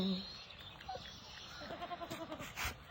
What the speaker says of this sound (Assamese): আমাৰ এইজনী নতুনকৈ ছাগলী পোৱালি দুটা দিছে ইয়াত যোৱাকালি